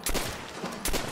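Two sharp, loud gunshots from a sniper rifle in Call of Duty: World at War Zombies, about three-quarters of a second apart, each a broad crack with a short tail.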